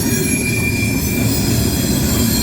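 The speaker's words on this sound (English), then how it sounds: "This might be the fastest train I've ever seen go through here." A CSX coal train rushes past at speed at night, close and loud, a dense continuous rumble of wheels on rail with a thin high squeal running throughout.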